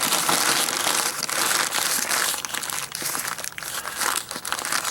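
A bag, apparently of deck repair material, is folded closed by hand, producing loud, continuous close-up crinkling and crumpling of stiff plastic with brief crunchy bursts and no talking.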